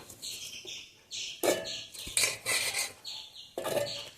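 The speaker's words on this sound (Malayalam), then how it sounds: "ഞാനിപ്പോൾ മിക്സിയുടെ ജാറിലാണ് ഇടുന്നത്" Close clinks and scrapes of a spoon against a mixer jar as arrowroot is dropped in, a series of short knocks and rattles with no talking.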